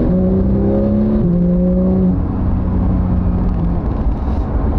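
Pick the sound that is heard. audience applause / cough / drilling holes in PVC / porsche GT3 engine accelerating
porsche GT3 engine accelerating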